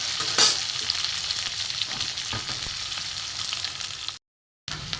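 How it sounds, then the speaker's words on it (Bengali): Onion frying in a pan for a spicy sea crab curry, a bright continuous sizzle with scraping stirs and one louder hiss near the start, close by, then a brief gap of silence. "একটু ভাজা ভাজা হোক পেঁয়াজটা"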